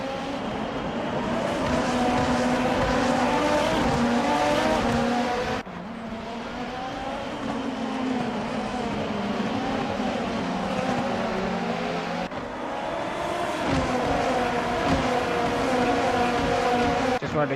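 Race cars roar continuously in a Formula Hololive racing video game, several engines droning and shifting pitch together at steady loudness, with gear changes marked by sudden drops in tone.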